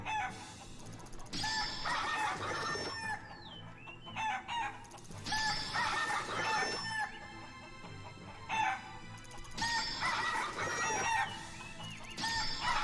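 Chickens in the video game Shenmue 3 clucking and squawking in repeating bursts over a steady backing of game music, the clucks loud and close in three busy waves separated by brief quieter gaps, with no speech.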